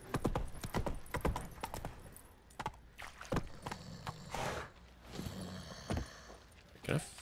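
Hooves of Roach, Geralt's horse in The Witcher 3, clopping in an irregular walking rhythm: a run of quiet, close hoof strikes with brief pauses between them.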